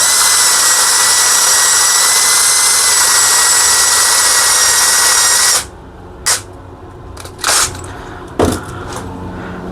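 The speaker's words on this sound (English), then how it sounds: "We'll hit it with some Scotch-Brite pad." A Scotch-Brite pad spun on a power drill scrubs engine parts during a J37 rebuild, a loud steady high whine for about five seconds, then stopping and giving three short separate bursts of scrubbing.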